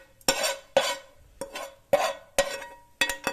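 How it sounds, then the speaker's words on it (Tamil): Sautéed onion and green chilli being mixed into kara paniyaram batter, with six rhythmic scraping strokes of a spoon through the thick batter in a bowl, close and clear, with no talking. "வதக்கிட்டு வெங்காயம் பச்சை மிளகாயெல்லாம் வதங்கிடுச்சு நல்லா, அதை இந்த மாவில் போட்டு மிக்ஸ் பண்ணிடணும்"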